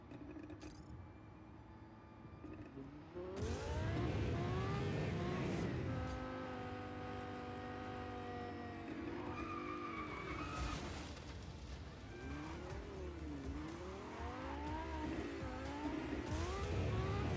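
Car driving and skidding in the video game Just Cause 4, with a sustained engine drone, rising and falling revs and repeated tire squeals throughout.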